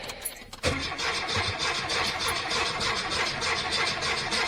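A cold-engined 1969 VW Fastback with no choke cranks and catches, a brief rough stutter then a steady loud running rumble close by with no pauses.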